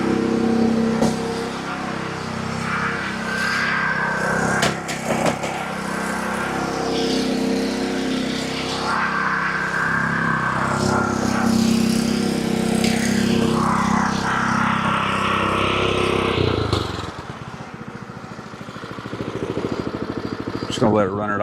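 A lawn mower engine runs steadily at idle outdoors with a continuous mid-pitched drone that shifts slightly throughout and dips briefly near the end, while a person talks over it intermittently.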